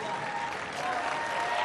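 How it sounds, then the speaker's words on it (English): Steady applause from a crowd at a tennis exhibition match between Lopez and Almagro in Abu Dhabi, a dense, even clapping that holds at the same level throughout with no voices standing out. "Nicholas Almagro taking the applause for a little bit of serve and volley"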